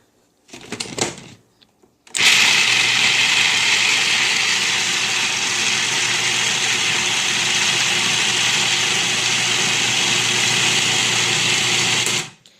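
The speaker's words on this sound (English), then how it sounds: "I like that this processor, while it's loud, it's way quieter than any processor I've had in the past" A food processor grinds almonds into almond butter, a loud, steady whirring roar that starts after a brief bump and runs unbroken for about ten seconds before cutting off.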